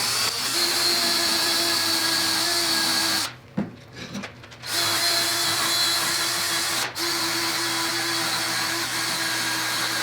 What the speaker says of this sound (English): A large wire wheel will remove most of the material on it and won't leave deep